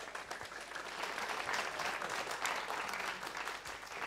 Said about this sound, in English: please give them an applause